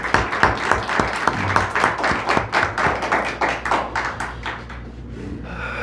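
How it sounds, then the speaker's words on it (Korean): A church congregation at a Korean Sunday worship service claps in loud, distinct, evenly spaced strokes, a rhythmic beat of sharp claps that thins and fades away toward the end. "다른 사람들에게 격려와 용기의 박수 크게 한번 하도록 하겠습니다."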